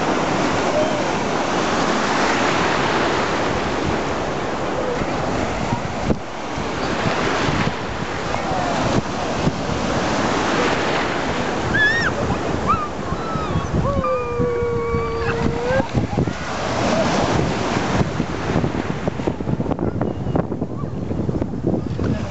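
Ocean waves break and surge continuously on a beach in Puerto Rico, a loud, rushing wash mixed with wind buffeting the microphone, with a brief high voice calling out in the middle.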